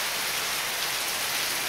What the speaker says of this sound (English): back comes the rain again